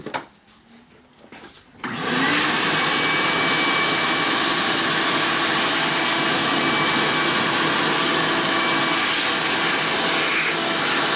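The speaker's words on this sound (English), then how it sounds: "Oh, the vacuum." A shop vacuum switches on with a click and roars at a steady, loud, constant whine in a motorcycle workshop during a 1979 Harley shovelhead 80ci motor rebuild, with a quiet room before it starts.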